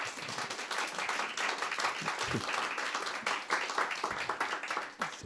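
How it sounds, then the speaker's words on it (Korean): Applause from a church congregation at a Christmas thanksgiving service, a steady wash of clapping lasting several seconds at moderate level, with a faint voice briefly rising underneath. "다시 한번 감사의 박수 한번 올려드렸습니다"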